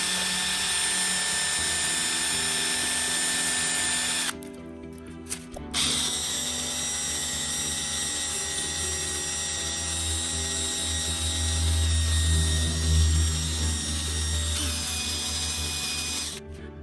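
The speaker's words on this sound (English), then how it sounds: "the best way I've found to mix it is to use a popsicle stick mounted in the battery drill" A battery drill spinning a popsicle stick to mix resin whirs steadily at close range, pausing briefly partway through before spinning up again, with a low rumble beneath its continuous whine.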